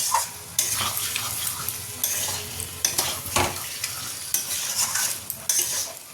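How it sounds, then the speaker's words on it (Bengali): Spice masala sautéing with fried cauliflower in a pan, a continuous sizzle broken by repeated scraping strokes of a spatula and light clanks against the pan, with no talking. "এখানে ফুলকপিটা ভেজে নিয়েছি আর মশলাও এখানে কষা হয়ে যাচ্ছে"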